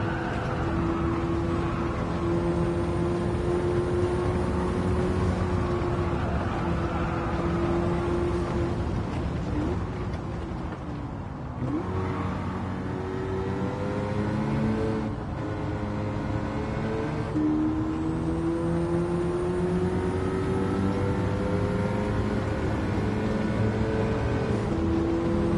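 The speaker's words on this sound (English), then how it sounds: "I want to enjoy the sounds of the cars" Racing car engines in Gran Turismo 7 drone and rise through the gears with sustained revving tones, shifting pitch with brief dips as the car brakes and accelerates again, loud and continuous without talk.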